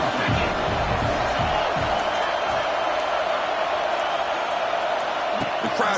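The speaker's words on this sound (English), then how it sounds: "The crowd is roaring, trying to help this defense on 4th down." In an NCAA Football video game, a stadium crowd roars steadily and loudly on a defensive fourth down, forming a dense, unbroken wall of noise with scattered thumps beneath it.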